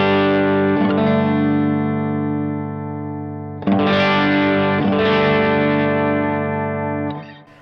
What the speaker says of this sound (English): Here is my guitar sound, just a couple chords